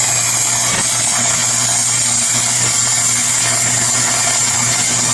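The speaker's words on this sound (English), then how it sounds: "Welding." Welding on a Jeep to patch metal right under the gas tank, a loud, steady, buzzing crackle with a constant hum that runs without pause, close by and with no talking.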